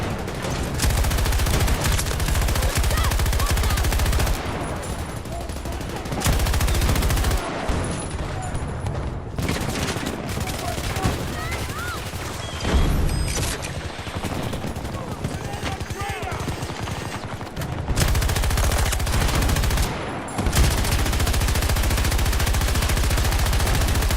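Rapid video game gunfire with non-armor-piercing rounds hitting a shield, repeated loud bursts and sustained volleys across the whole stretch, broken by short lulls.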